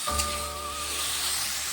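Tomato pieces sizzle in hot oil in a pan seasoned with mustard seeds, fennel and dried red chilli, a steady close broadband hiss lasting under two seconds with no voices.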